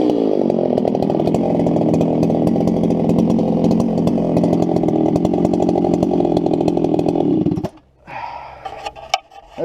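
A chainsaw roars continuously while cutting trees for firewood, loud and close with a steady buzzing drone for several seconds, then cuts off abruptly into quieter scattered clanks and scrapes.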